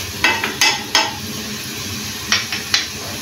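A spoon stirring spices into beef and garlic-ginger paste in a pot, with several sharp metallic scrapes and knocks against the pot over a steady frying sizzle, close and fairly loud.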